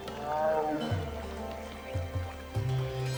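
Tigress Machli gives a deep, rumbling roar in a wild park setting, with a few low guttural grunts following, close and fairly loud.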